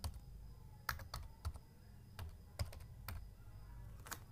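A date of birth is typed on a computer keyboard as close, crisp key taps arrive singly and in small bunches at an uneven pace, with quiet gaps between them.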